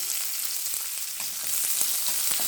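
Onions and green chillies sizzle steadily in a hot pan, a bright continuous crackle of frying with occasional soft stirring scrapes, heard alone and close.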